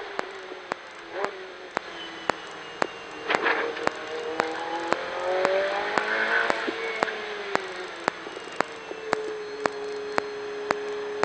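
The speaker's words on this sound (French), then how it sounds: "Et en progression, on accélère." A Ferrari 488 Challenge car accelerates on the Varano track, its engine note rising steadily from close inside the car, with sharp regular clicks repeating throughout.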